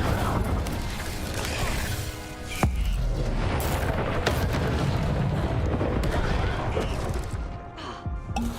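An Incendio fire spell erupts in a video game: a roaring, crackling wash of noise with a heavy boom partway through, sustained and loud before fading slightly at the end.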